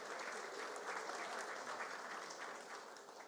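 Audience at a December 2014 debate event on holdouts giving a round of applause, a continuous, even patter of many hands, fairly faint and distant, tapering slightly at the end.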